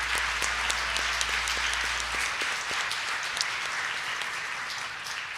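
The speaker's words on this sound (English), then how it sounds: "So we want to give a big round of applause to him." An audience at a school board meeting breaks into dense, sustained applause, a steady wash of many hands clapping throughout, with a low hum fading out early.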